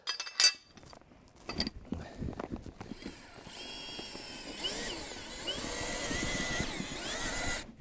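A power drill drives a ground anchor into the earth, starting with a few sharp clinks and bursts, then a steady whining, grinding run that rises and holds for several seconds, fairly close and with no talk over it.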